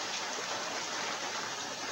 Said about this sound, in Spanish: y la lluvia ha embravecido.